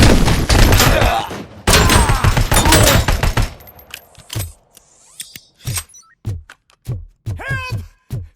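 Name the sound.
gunfire in RoboCop: Rogue City video game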